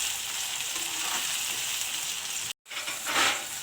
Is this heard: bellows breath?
no